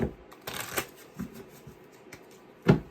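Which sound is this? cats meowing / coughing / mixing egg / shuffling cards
shuffling cards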